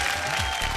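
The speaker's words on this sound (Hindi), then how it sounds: "जोरदार तालियों से स्वागत करी हमनी के दोनों जजेस" A studio audience applauds to welcome the judges on a televised competition show, a short dense burst of clapping under a quick sung musical fragment.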